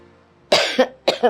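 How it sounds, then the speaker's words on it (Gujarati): Two harsh, close coughs from an elderly woman with a long-lasting cough in a home setting, the second following after a short pause, each with a sharp onset and a rough, throaty tail, with no talk over them. "આ તમને ઘણા સમયથી ખાંસી આવી"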